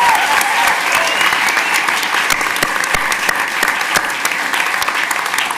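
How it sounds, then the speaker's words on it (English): Sustained applause from a large crowd at a college graduation honors ceremony, dense clapping that stays loud and steady throughout, slowly thinning slightly toward the end. "let's give one more big round of applause for our students graduating with honors and"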